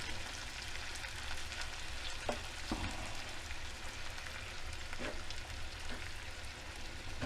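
Garlic shrimp tossed and warmed in a pan on the stove, a constant soft sizzle with occasional gentle scrapes and light taps as the pieces are turned to coat them evenly.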